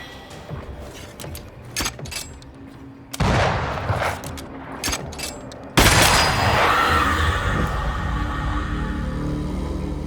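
Gunfire from a corpse enemy in the video game Banishers: Ghosts of New Eden: scattered sharp shots and a fusillade, then heavier booming bursts that swell into a loud, sustained roar of fire.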